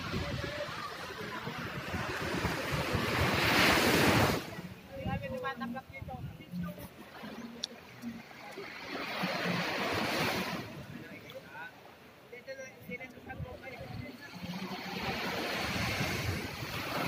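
Surf rolls and crashes in broad surges at a beach at Real, Quezon, with heavy wind buffeting the microphone and loud rushing swells rising and falling. Voices can be heard at times.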